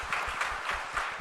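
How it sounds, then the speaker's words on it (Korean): Congregation applauding during a Sunday church service, a steady, moderately loud patter of many hands clapping throughout. "박수 한번 보내겠습니다."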